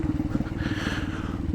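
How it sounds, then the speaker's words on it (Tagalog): A motorcycle bounces over a rough mountain trail between La Union and Kibungan, its engine throbbing in a steady, rapid pulse up close, with faint rattling over the bumps. "Ay, tumatalon-talon yung motor."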